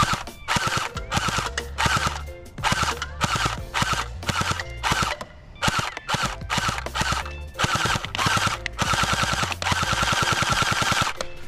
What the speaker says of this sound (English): This is a fully automatic gel blaster, guys, so it will shoot continuously.